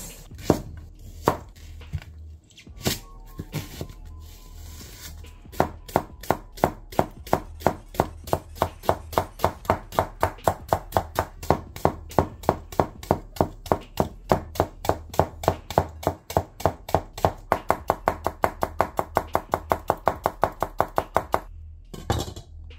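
A Katsumoto nakiri knife chops steadily on a cutting board, a long run of evenly spaced sharp taps that speeds up into a fast, regular rhythm, close up.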